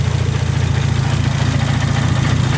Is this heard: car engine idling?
yes